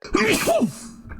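One sharp human sneeze, close and loud, with a quick inhaled catch followed by the explosive burst and a short trailing breath, nothing else around it.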